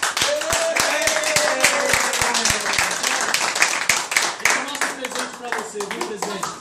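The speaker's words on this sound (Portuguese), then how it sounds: "salva de palmas pro cara que não foi molasco" A small group claps for a prize winner, with brisk, uneven hand claps close by and continuing for several seconds while someone talks loudly over them.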